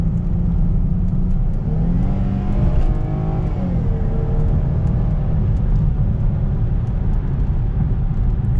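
2018 Chrysler 300 accelerating, heard from inside the car as a steady engine drone rising in pitch over constant road and cabin rumble, with no speech.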